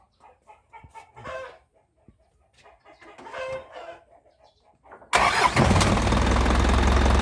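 A loud, steady truck diesel engine, a 4HF, rumbles to life after several seconds of quiet, scattered background sounds, then runs continuously with a heavy low drone.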